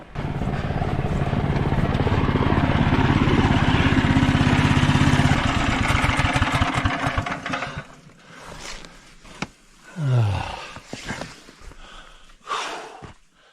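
Engine racing hard with its throttle jammed open, a loud sustained roar that drops off after about eight seconds, followed by scattered knocks, rustles and a brief low whine in a snowy campsite setting.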